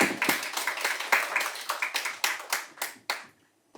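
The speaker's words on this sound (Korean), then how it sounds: "박수로 부탁드립니다." A small group claps in brief applause, sharp and fairly close, thinning out to a few last claps before stopping.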